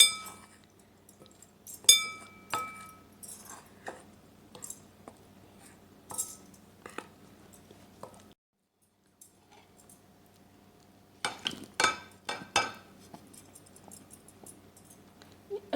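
Spices, chaat masala and sesame seeds being stirred in a bowl, a series of light clinks and taps from a spoon in irregular bursts, a pause midway, then a denser run of scraping clinks, with no talking.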